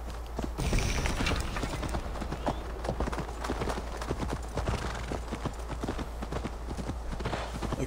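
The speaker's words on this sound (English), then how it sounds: "My horse." Horse hooves clip-clop steadily in the video game Assassin's Creed Valhalla, a continuous rhythmic gait of close, distinct footfalls with no talk over it.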